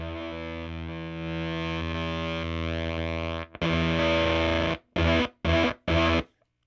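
Electric guitar through a Jext Telez DigiTone V7 germanium fuzz pedal: a long, thick sustained fuzzy chord with mid-range snarl, then a burst of several short, choppy staccato strums, loud and close.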